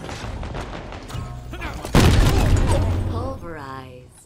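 Grenade blast in Halo Infinite: a sudden, loud explosion hits midway, booming and slowly decaying amid gunfire, chiming game effects and announcer voices.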